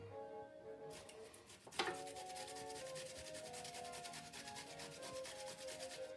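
Potatoes are grated by hand for hash browns, giving a steady, close, rhythmic scraping rub with a sharper clatter near the start, continuing without talk.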